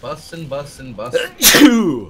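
A single sudden, forceful sneeze bursts out close by, right after a few quick spoken words, followed by a breathy trailing exhale.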